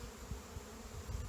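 A mass of honey bees hums at an opened hive frame during handling, a low, even buzzing drone from many insects nearby with slight pulsing swells throughout.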